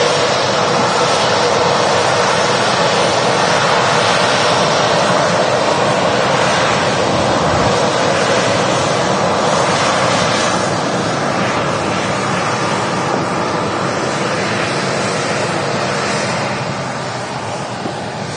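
An airliner arrives at Manchester Airport, its broad, steady roar of engine and air noise filling the scene loudly before easing slightly at the end.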